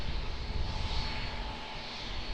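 A Royal New Zealand Air Force Lockheed C-130H Hercules at Auckland Airport gives off a loud, continuous turboprop engine drone with a broad rumbling roar and a steady tonal hum, with no talking.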